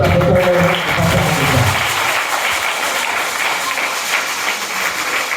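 A church congregation applauding in praise of the Lord, dense continuous clapping that fills the room, with a low murmur of voices and music fading out early beneath it.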